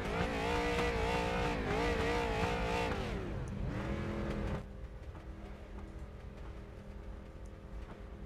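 Street stock race cars roar through a racing video game replay, engines loud and continuous, a pitch sweep as one passes, then the din drops to a steadier, quieter drone.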